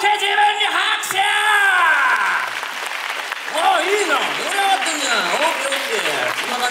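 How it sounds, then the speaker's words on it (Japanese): An audience at a Universal Studios Japan rock-and-roll monster live show claps and cheers for themselves, a loud sustained burst of applause with whoops and shouts that dips briefly then swells again. "オッケー、自分に拍手。"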